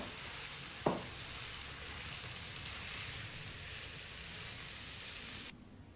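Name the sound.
chopped carrot cooking in a pan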